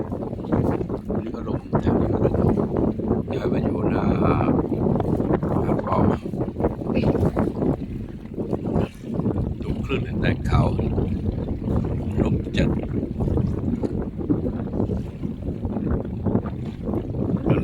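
Strong wind gusts roar over a lake, heard from a boat out netting fish, forming a dense, steady rush of buffeting noise with voices faintly underneath.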